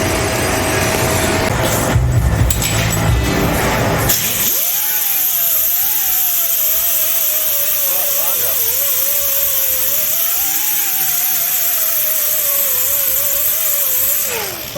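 A DA sander works over Bondo-covered bodywork on a 1953 Ford F100 pickup, a steady loud whine with a wavering pitch running continuously after some rougher noise at the start.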